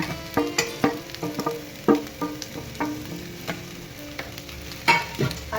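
Masala dosa potato filling frying in a pan, close sizzling broken by sharp, irregular clinks and scrapes of a spatula stirring it.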